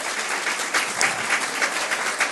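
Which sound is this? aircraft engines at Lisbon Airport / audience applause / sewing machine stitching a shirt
audience applause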